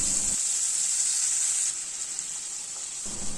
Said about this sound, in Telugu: ఇప్పుడు ఇదే ఆయిల్లోకి ఒక 3 ఉల్లిపాయలు కట్ చేసి వేసుకోవాలి.